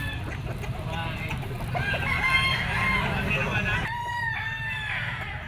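A super brown red fighting rooster, two years old, crows loudly and close at the Grotto pet market, with a second crow near the end over the busy market bustle and someone talking.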